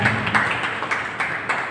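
Loud, steady applause from a poetry-gathering audience welcoming a poet at a national convention in Sanjan, Gujarat, dense clapping throughout with a few sharper bursts of claps, no talk over it.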